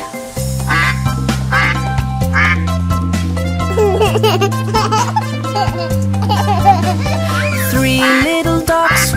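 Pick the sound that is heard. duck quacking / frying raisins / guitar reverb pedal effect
duck quacking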